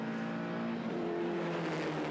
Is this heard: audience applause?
no